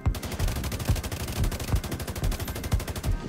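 Rapid automatic gunfire in The Division 2, a steady close burst of evenly spaced shots running almost the whole time with no talk.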